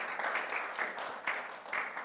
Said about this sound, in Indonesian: Tepuk tangan panjang bagi Tuhan Yesus.